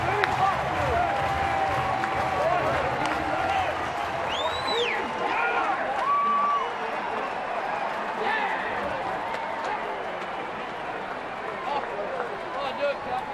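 A Giants home crowd at a San Francisco baseball game roars and applauds after a Cody Ross home run, a sustained broad wash of cheering that slowly eases, with a commentator talking over it.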